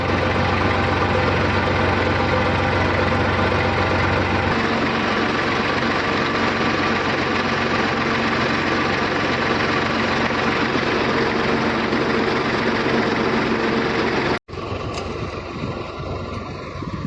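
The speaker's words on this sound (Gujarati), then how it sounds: "અટાણે હું કરું ટ્રેક્ટર ચાલુ" A farm tractor engine runs at a steady idle for a long stretch, a loud continuous rumble with knocking vibration; after a brief cutout near the end the running resumes with a changed tone.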